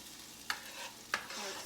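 A tomahawk steak sizzling in a pan after being flipped, a low steady fry hiss broken by two sharp bursts of spattering, close and quiet, with no talking.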